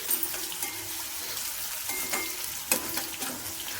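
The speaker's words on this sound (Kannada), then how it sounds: "ಈರುಳ್ಳಿನ ಒಂದು ಸ್ವಲ್ಪ ಬ್ರೌನ್ ಕಲರ್ ಬರೋವರೆಗೂ ಫ್ರೈ ಮಾಡಿಕೊಂಡ್ರೆ" Onions sizzle steadily in a hot pan, a continuous close frying crackle with occasional stirring scrapes and a sharp clink near the end, no voices.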